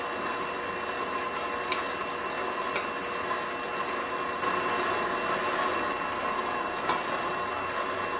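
A dough kneading machine mixes focaccia genovese dough with a constant mechanical hum and faint rhythmic clicks, steady and moderately loud throughout, with no speech.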